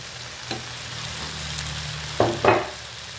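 Mushrooms drop into a pan of frying eggplant, setting off a steady close sizzle with two louder bursts of crackling as the pieces hit the hot oil.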